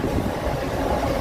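A steady, close rumble of wheels and motors comes from aboard a Mumbai Andheri–Virar double fast EMU suburban train at speed. The hum is continuous, with no voices over it.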